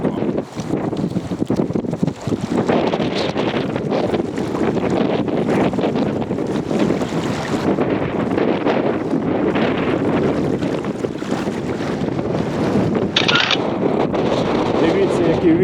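Loud wind blasts across the microphone over open water while fishing with spinning and feeder rods, with the slap of waves and a boat's creaks mixed into a continuous roar.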